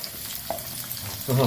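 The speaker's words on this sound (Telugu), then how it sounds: "ఈ పొటల్స్ వేసి ఫ్రై చేయాలి కొంచెం కొంచెం కలర్ వచ్చేంత వరకు" Pointed gourd pieces sizzle in hot oil with a steady, close crackle and a few light stirring clinks, and the frying swells louder right at the end.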